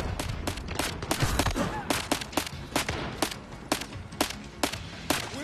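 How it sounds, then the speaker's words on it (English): Heavy gunfire in the video game Zero Caliber during a thunderstorm mission, rapid sharp rifle shots fired in quick irregular bursts, loud and close over a rumbling battle background. "Taking heavy fire."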